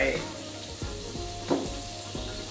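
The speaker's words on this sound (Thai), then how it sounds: "อ่าใส่เนยลงไป" Butter sizzles steadily in a hot frying pan with beef, a close, continuous crackling hiss broken by a few soft knocks and stirring bumps.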